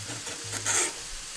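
Garlic and tomato paste sizzle in a hot pan as they are stirred, a close, steady frying hiss with scraping strokes of the utensil and a brief louder burst midway.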